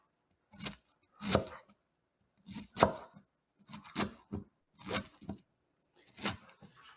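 Knife chopping cabbage for Nigerian cooking, struck in quick bursts of three or four sharp blows with short pauses between, close and loud with no talk.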